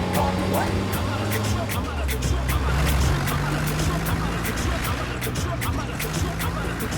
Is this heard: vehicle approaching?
yes